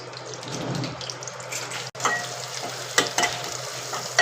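Garlic and seven or eight curry leaves sizzling in hot oil for a Malvani-style prawn chutney tempering, a close, steady crackle with a few sharper pops and one brief break midway.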